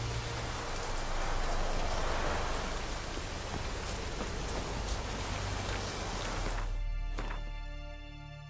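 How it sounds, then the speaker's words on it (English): Steady rain from The Witcher 3: Wild Hunt hisses as a dense, even patter of drops for most of the stretch, then fades out near the end as quieter game ambience with faint tonal sounds takes over. "Looks like rain."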